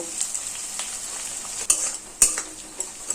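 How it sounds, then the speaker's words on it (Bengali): Sliced onions fry over a medium gas flame in a pan for a Bengali fish-head chhyachra, giving a steady close sizzle with a few sharper crackles and spatters and no talk. "গ্যাসের ফ্লেম মিডিয়ামে দিয়ে পেঁয়াজগুলোকে হালকা লাল লাল করে ভেজে নেব।"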